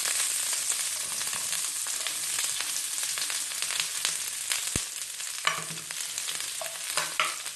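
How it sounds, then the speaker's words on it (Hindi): Onion rings sizzling in oil on a hot sizzler plate for gola kabab, a dense continuous crackling hiss that stays loud throughout with small pops, no voices. "यहाँ पे मैंने एक ये सिजलिंग प्लेट ली है, इसके अंदर मैं थोड़ा ऑयल डालूंगा। इसके ऊपर थोड़े से प्याज के जो हैं वो रिंग्स वो डाल देंगे।"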